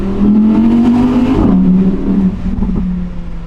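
A 2020 Audi R8 Spyder V10 with rear-wheel drive revs loud and close on the Grimsel Pass, its engine note climbing steadily then dipping and settling into a sustained drone.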